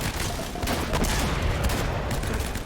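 Dense, continuous gunfire rattles loudly throughout a shootout in the video game Uncharted: Drake's Fortune, with overlapping rapid shots and no pauses.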